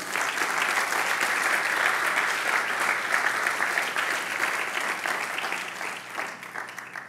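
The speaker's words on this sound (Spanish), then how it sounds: "¿Puedes dar un aplauso al Señor?" A church congregation applauds during a sermon, steady dense clapping throughout that gradually thins and fades toward the end, with no speech over it.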